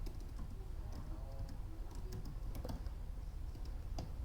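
Fast, light keystrokes on a computer keyboard click quietly and steadily with a few sharper taps in between, heard close over a faint room hum with no talking.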